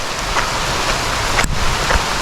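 Steady patter of rain on a surface, a dense continuous hiss with a few sharper drops standing out, no voices.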